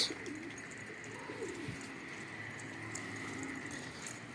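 Mardin pigeons coo faintly and intermittently over a steady outdoor background hum, soft low murmuring calls spread across a few seconds.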